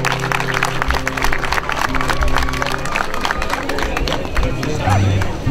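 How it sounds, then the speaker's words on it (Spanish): An audience applauds at a ceremony, a dense wash of many hands clapping with crowd murmur, steady and fairly loud at close range, with people talking through it. "Eso, y el aplauso a todos los presentes."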